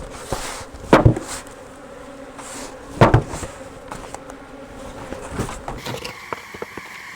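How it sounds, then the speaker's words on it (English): Honeybees fanning at a nuc hive entrance make a continuous buzzing drone outdoors, broken by a few sharp knocks and thumps nearby. "those bees out there will start fanning, and they'll all start heading in"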